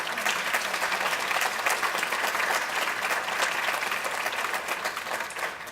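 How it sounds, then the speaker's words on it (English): A crowd applauds steadily, a dense wash of clapping that holds at an even level throughout, with no one speaking. "Please have them stand and give them a round of applause"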